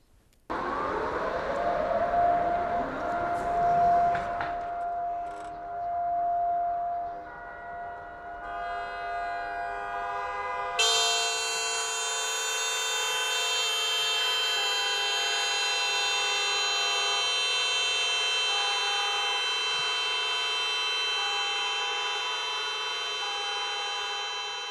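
Sirens wail while vehicle horns blare together in a long, sustained chorus across China during three minutes of national mourning for coronavirus victims, one rising tone fading into a dense, unbroken blast that keeps going.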